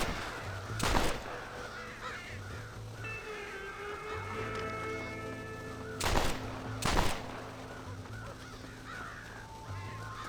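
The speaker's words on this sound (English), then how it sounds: "Protect your corn from the crows," Crows caw at a ranch in Red Dead Redemption, a few harsh calls over steady ambient game sound, with sharp loud bangs near the start and middle and no talking.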